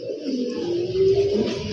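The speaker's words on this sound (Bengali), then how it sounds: "এক পেয়ার গ্রিজেল কবুতর" A pair of grizzle pigeons coos close by, one steady, drawn-out throaty coo rising clearly over a faint background.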